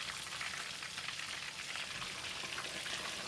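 Crispy fish fries in a pan of hot oil, giving a steady, dense sizzle and crackle that stays loud and continuous throughout without any talking.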